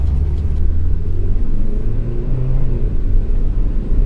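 A gigantic Transformer car gives off a deep, steady engine rumble that fills the whole stretch at close range, with no voices over it.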